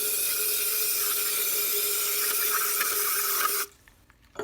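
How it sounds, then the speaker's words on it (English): A steady hissing spray from an aerosol can of carburetor cleaner runs for several seconds, close by, on a Powersmart snow blower, then cuts off abruptly into near silence. "I'm going to take my 2+2 gum cutter, and I'm just going to spray it down"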